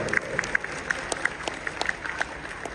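An audience at a Sampoorna Ramayana show greets the chief guest, Swami Gyananand ji Maharaj, with applause: scattered, distinct claps rising above a soft wash of crowd clapping, moderately distant.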